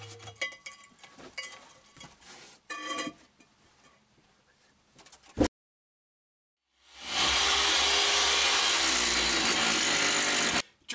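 Scraping and clinking of tools, a short pause, then a loud power drill grinds steadily straight down into a floor for several seconds before stopping abruptly.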